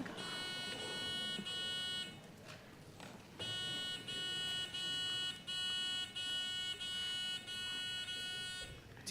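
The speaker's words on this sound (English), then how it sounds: "Let's do a buzzer check real quick." An academic tournament buzzer system sounds in a long series of loud, harsh electronic buzzes, several held for about a second with brief gaps between them, in a room with light background noise and no talking.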